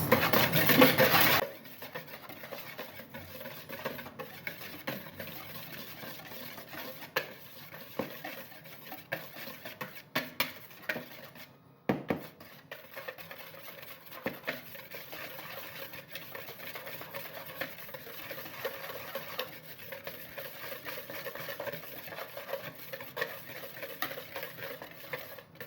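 Breakfast ingredients seasoned with pepper are stirred in a bowl, a steady soft scraping and clinking that runs the whole time with scattered louder knocks, close and fairly quiet, with no voices.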